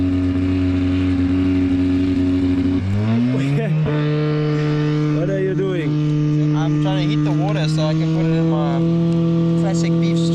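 An electric Audi e-tron Dakar rally car emitting loud, steady electric whines and tones that shift pitch partway through, with voices talking over it outdoors at a rally bivouac.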